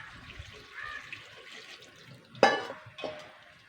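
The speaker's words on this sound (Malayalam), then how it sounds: "ആവശ്യത്തിന് വെള്ളം ഒഴിച്ചു കൊടുക്കുക" Close-up water pouring into a pot, with a quiet trickle followed by two sharper splashes and clinks toward the end.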